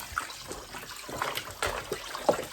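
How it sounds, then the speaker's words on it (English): Kitchen tap water runs and splashes over raw chicken pieces being washed in a sink, a steady soft trickle with small irregular splashes, close and fairly quiet. "Turn on the water, and I will be washing my meat"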